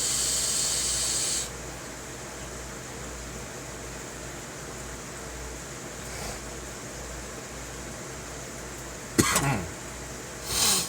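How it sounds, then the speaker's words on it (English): A man with a lingering cough gives a sharp cough near the end of a quiet stretch, then another softer one, over faint steady hiss in a room. "I'll be glad when I get rid of this cough"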